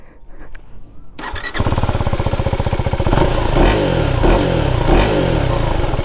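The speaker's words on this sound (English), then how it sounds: "I'll just make you hear the exhaust sound." A KTM Enduro 390 R motorcycle starts up close by with a cranking clatter, then its single-cylinder engine catches into a loud, pulsing exhaust note with a few blips of the throttle.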